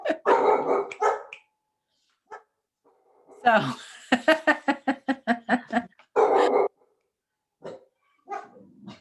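Several dogs bark in bursts, first a short volley, then a rapid run of loud sharp barks, then one more burst and a few scattered yips, with people talking around them indoors.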